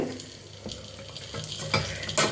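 Sautéed spices poured into yogurt and stirred in for more kuzhambu: close, continuous stirring and scraping with a light sizzle and a few louder scrapes near the end, no talking.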